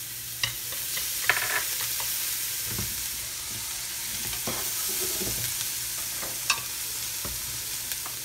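Garlic frying in oil in a pan, a steady close sizzle with a few sharp clicks and stirring scrapes, no voices.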